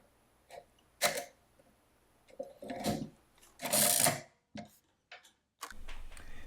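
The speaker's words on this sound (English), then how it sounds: "And then to clear, the crank handle has to be down." Addo Model 2 adding machine with its crank handle worked to clear it, giving several loud close mechanical ratcheting clacks and whirs in separate bursts with brief silences between them.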